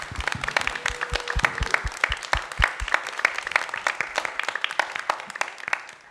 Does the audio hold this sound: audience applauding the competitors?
yes